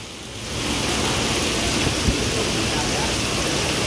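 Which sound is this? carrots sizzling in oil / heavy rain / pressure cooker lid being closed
heavy rain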